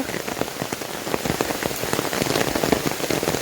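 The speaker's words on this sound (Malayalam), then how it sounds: "നല്ല മഴയുണ്ട്" Heavy rain drums steadily on a surface, dense close patter with individual drops ticking sharply throughout.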